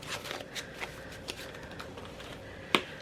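Cash savings bills being counted by hand, giving soft papery flicks and rustles at an irregular pace, quiet and close, with one sharper snap near the end.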